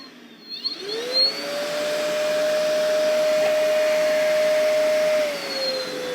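A WORX WX031.9 cordless wet/dry vacuum spins up after a short chime and then runs with a steady, close, whirring hum before winding down slightly.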